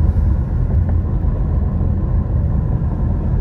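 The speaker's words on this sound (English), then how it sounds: "And we're driving in the snow" A car drives along a snowy road in Big Bear during the season's first snowfall, giving a steady, close, low engine and road rumble that runs unbroken with no talking.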